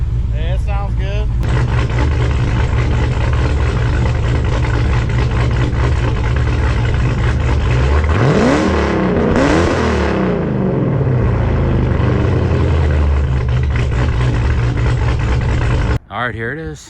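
A 1500-horsepower RSP Jeep Trackhawk with a Mopar engine rumbles loudly and close by, a deep steady roar that swells into a rising rev midway, then cuts off abruptly at the end.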